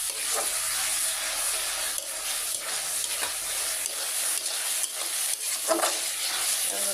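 Masala spices sautéing in a pan on a gas stove, a steady close sizzle with occasional scraping stirs and light clinks throughout, no talking.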